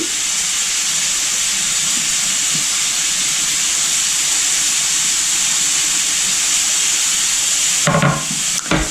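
Steady, dense sizzling of bacon frying in a pan, a continuous crackling hiss close by, with a brief clatter near the end.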